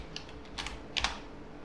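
Fingers tap a computer keyboard at a Linux terminal in a few quick clusters of clicks, close and fairly soft, with short pauses between bursts.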